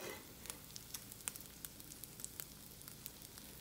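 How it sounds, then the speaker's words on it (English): Breadcrumb-coated chain pickerel nuggets frying in hot oil, a faint, steady sizzle with scattered small pops and crackles, no voices. "I'm gonna let that fry for a little bit."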